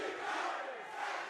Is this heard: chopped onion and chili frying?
no